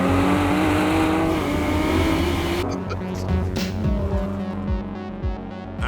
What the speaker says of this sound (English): Then there's the twin-turbocharged V6 engine.